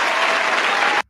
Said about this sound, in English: Let me go ahead and give you some applause for that